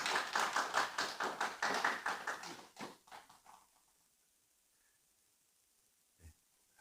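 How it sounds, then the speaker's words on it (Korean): Church congregation clapping together during a flower bouquet presentation, a loud burst of rhythmic applause for about three seconds that quickly fades to scattered claps and near silence, with one faint thump later. "우리 축복하는 마음으로 꽃다발 드릴 때 우리 박수해 주시기를 바랍니다."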